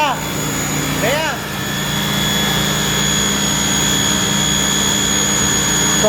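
A motocross motorcycle engine idles in a steady, loud drone at a race venue, with a short rising whine from the engine near the start and a constant hum beneath.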